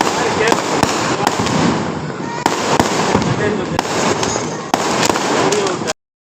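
Diwali fireworks from a neighbouring street make a dense, continuous crackling barrage. Sharp individual bangs punctuate it steadily for about six seconds before it cuts off abruptly.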